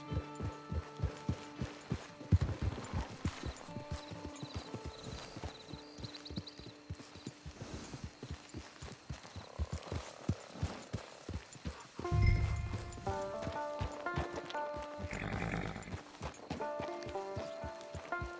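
A horse's hooves clip-clop at a steady walking rhythm in the Red Dead Online video game, close and fairly quiet over a low background hum.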